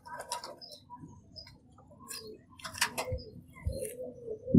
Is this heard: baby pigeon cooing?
yes